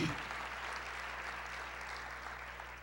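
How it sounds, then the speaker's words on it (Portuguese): A church congregation applauds the Lord during a service, a dense, even roar of clapping that holds steady for a few seconds at moderate volume with no clear individual claps. "Vamos aplaudir ao Senhor"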